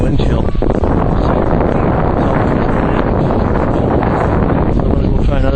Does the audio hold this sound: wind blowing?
yes